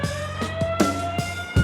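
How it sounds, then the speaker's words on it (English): Warning siren sounding before blasting in a tunnel excavation pit: a steady, sustained tonal wail at moderate distance, with faint knocks and bumps underneath. "A siren warns everyone to take cover."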